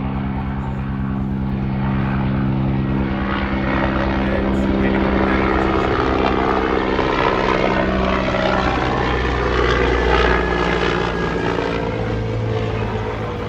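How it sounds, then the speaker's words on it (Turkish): A helicopter's loud rotor chop and engine roar drone on steadily and close, filling the whole stretch without letting up. "Helikopterden dolayı ufak bir ara vermek zorundayız."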